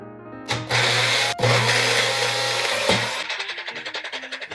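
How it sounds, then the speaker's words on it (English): A small kitchen blender whirs steadily while chopping garlic for homemade hot sauce, starting abruptly, pausing briefly and restarting, then winding down into a pulsing, slowing motor hum as it stops. "Should we blend it a little bit first?"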